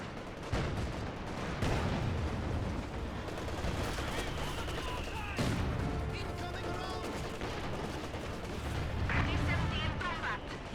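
Howitzer artillery barrage in the Company of Heroes 2 strategy game, a busy battlefield with repeated gunfire cracks and distant shell impacts layered together at moderate level, while a commentator talks over it.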